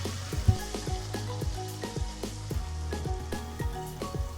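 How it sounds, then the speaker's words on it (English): Golden-roasted nuts are stirred into bottle gourd halwa (lauki ka halwa) frying in a pan, giving a steady sizzle punctuated by regular, rhythmic ticking scrapes of the spoon. "Let's add this to the bottle gourd and mix it."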